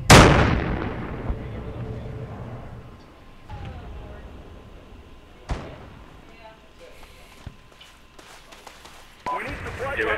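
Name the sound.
grenade explosions, video game Project Reality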